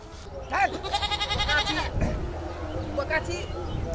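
A goat in a village setting bleats in two or three wavering cries near the start and again later, close and fairly loud, while people talk over and between the calls.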